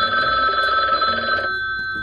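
Steady electronic telephone ring sounding continuously at close range, with a background hum, with the ring dropping away partway through.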